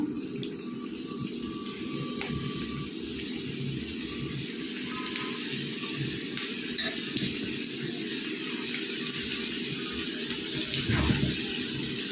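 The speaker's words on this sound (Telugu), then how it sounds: "ఆయిల్ హీట్ ఎక్కిందండి పకోడీలు వేసుకుందాం" Onion pakodas deep-frying in hot sunflower oil, a steady dense bubbling and crackle that runs unbroken and fairly close throughout, with no voices.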